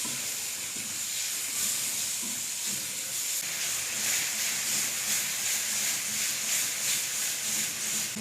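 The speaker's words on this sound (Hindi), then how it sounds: "टमाटर को भी हम यहाँ पर 4 से 5 मिनट हल्की आंच पर भून लेंगे।" Finely chopped tomatoes frying over low heat in a pan give a steady, close hissing sizzle that holds at an even level throughout, with no one talking.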